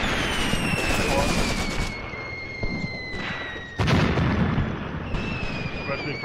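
Gunfire and artillery booming in the Graviteam Tactics war game, with Operation Blau fighting in fog: a dense, rumbling wash of distant shots and sharp blasts, with one loud burst partway through, under steady background noise.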